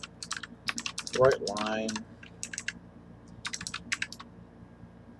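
Rapid keystrokes on a computer keyboard while a message is typed during a programming lesson, coming in irregular bursts of close clicking, with a short spoken phrase breaking in partway through.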